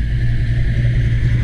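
An AC Cobra's engine holds a loud, deep, steady rumble at close range for a brief moment, with no voices over it.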